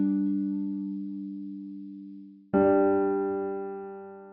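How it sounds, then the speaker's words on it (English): A bare root-and-fifth interval without the third, sustained on a synth-like keyboard tone, fading, then struck again brighter and louder at mid-clip with a ringing decay. "let's only play the root note and the fifth, so we delete the third for the time being"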